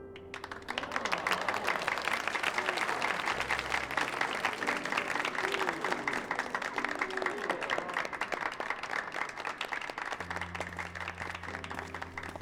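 A crowd claps continuously in the video game Final Fantasy 14, a dense, even patter of applause running under soft in-game music tones.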